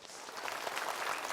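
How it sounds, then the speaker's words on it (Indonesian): A studio audience at a televised religious talk show gives a brief burst of clapping, a soft, even patter heard from a slight distance. "Pintar, tepuk tangan dulu."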